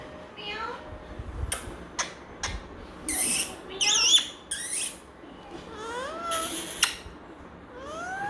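A Tamil-speaking pet parrot imitates a cat's meow, giving several squeaky, rising and falling calls with short gaps between them. The calls are fairly close and stand alone against a quiet background.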